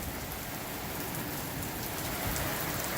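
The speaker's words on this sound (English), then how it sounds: "It's pouring bad, big time." Heavy rain pours steadily in a windy, stormy city, a dense, even roar of water close by with no break and no voices.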